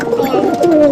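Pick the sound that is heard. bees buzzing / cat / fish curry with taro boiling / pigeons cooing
pigeons cooing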